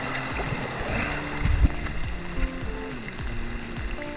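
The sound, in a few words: ocean water at the beach while washing gear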